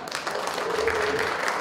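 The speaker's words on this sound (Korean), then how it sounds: "박수 한 번 더 주십시오" An audience at a Rotary club founding ceremony in Cheongju gives a short round of applause, a brief, moderately loud patter of clapping with faint murmur beneath.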